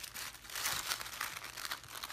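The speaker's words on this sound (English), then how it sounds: "So I'm just going to trim off some here," Tissue paper being trimmed by hand for a gift bag, giving a steady close crinkling and rustling with soft cutting sounds throughout, without any voice.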